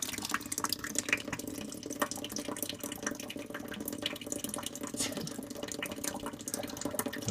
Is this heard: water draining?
yes